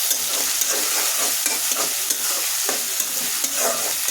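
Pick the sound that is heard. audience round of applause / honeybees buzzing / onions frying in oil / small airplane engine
onions frying in oil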